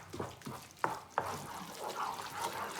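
Risotto alla Milanese with aged Parmigiano Reggiano stirred off the flame in a pan: thick, wet squelching and a couple of sharp spoon knocks, close, without talk.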